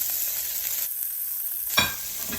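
Onions, tomatoes and hot peppers sizzle and crackle steadily in a hot frying pan, with a brief louder burst of frying near the end.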